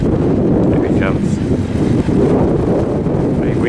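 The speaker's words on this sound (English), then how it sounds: "Very windy out here." Strong wind roars across the microphone throughout, loud and continuous, with faint voices partly buried beneath it, on a farm while silage bales are loaded.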